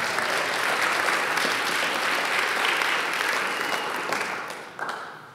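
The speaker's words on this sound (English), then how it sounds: "Let's give the Lord a hand clap of praise." A church congregation claps hands in praise during a worship service, a dense, steady wash of applause that holds loud for several seconds before tapering off, with a final burst near the end.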